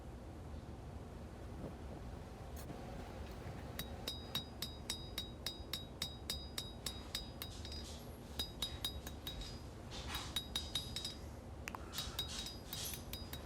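Sharp metallic hammer blows ring out while a knife is hand forged, coming in quick rhythmic bursts of strikes with pauses between them over a faint background hiss.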